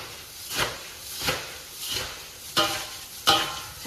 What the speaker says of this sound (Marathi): आता मी सगळं एकत्र करते आहे।